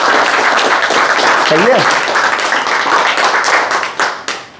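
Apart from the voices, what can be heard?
audience applause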